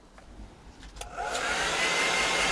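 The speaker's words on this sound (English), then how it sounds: "Hit it with a hairdryer" A hairdryer is switched on to dry paint on a handmade 160mm glide bait fishing lure, a few clicks first and then a steady rising whoosh of blowing air, close and alone.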